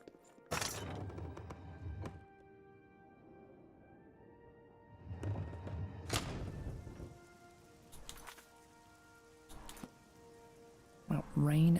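Rain in the video game The Elder Scrolls IV: Oblivion falls as a soft, steady patter, with a few louder bursts like distant thunder rumbling through it at intervals.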